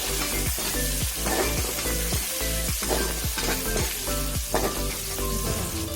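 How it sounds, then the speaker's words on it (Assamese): Onions with ginger-garlic paste and chillies frying in a pan, a loud continuous sizzle with rhythmic stirring strokes under a steady low hum. "এতিয়া কাটি থোৱা পিঁয়াজ দি লৈছো এইখিনি এতিয়া ভালদৰে মিক্স কৰিম"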